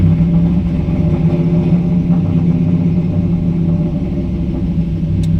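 A car engine works under load as it drives during tuning, a loud, steady low rumble that holds at an even level throughout with no talking.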